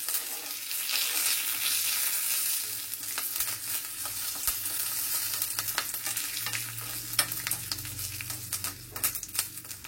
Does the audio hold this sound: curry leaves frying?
yes